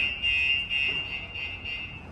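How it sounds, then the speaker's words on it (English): A steady, high-pitched electronic alarm tone from a Lexus RX450h's StarLine S96 car alarm, set off by a light tap on the window, wails continuously at close range, with no pauses and no talking. "It will trigger the alarm system."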